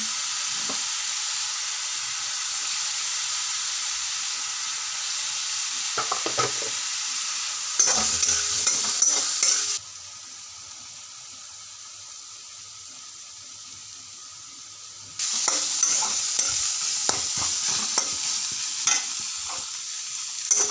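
Potatoes fry in a pan with salt and turmeric, giving a steady sizzle broken by stirring scrapes, with a quieter stretch in the middle before the sizzling returns.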